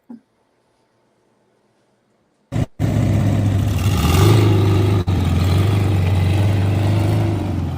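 A California Special Ford Mustang engine starts up after a brief silence, then holds a loud, steady idle with a rising rev partway through, heard close and alone.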